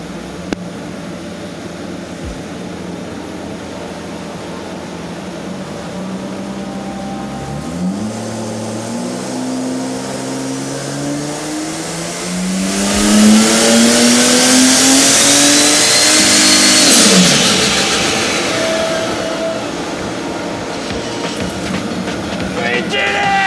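A triple compound turbocharged VL wagon revs hard on a dyno, its engine note climbing in pitch and swelling to a loud, roaring peak before easing off, with no talk over it.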